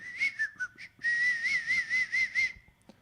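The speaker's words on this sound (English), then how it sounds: "Wow, that was a nice whistle." Someone whistles a short melodic phrase, clear and close, with a few brief notes and then a longer wavering run before stopping.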